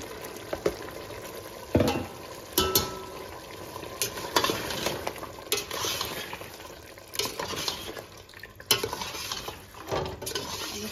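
Capsicum stirred and frying with mutton in a pan, a steady sizzle broken by repeated scraping and clanking of a spoon against the metal, close and loud with no speech.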